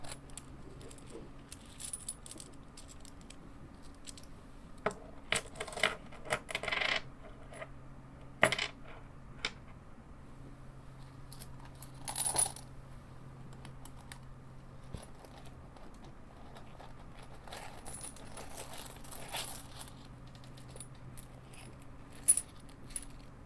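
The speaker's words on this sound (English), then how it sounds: "I need to empty this whole bag of the coins inside of it." Metal coins are poured from a bag in a quiet indoor ASMR setting, giving soft, scattered clinks and jingles that come in clusters with pauses, faint and close, with a low steady hum underneath.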